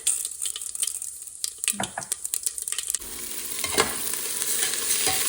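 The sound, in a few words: whole mustard seeds sizzling in tempering oil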